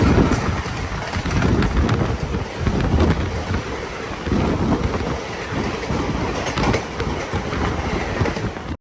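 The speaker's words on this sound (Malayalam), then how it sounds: "ഇപ്പം ഇതുവഴി ഒരു ട്രെയിൻ കടന്നു പോകും. Mangaluru Puducherry weekly express" Mangaluru–Puducherry weekly express train passing close by, a loud continuous rumble and rattle of wagons rolling past with wind buffeting the microphone, no talking.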